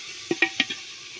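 Tomatoes and spices being stirred into onions frying in a pan: a steady sizzle with a few quick scraping knocks from a spoon or ladle, close and moderately quiet, no talking.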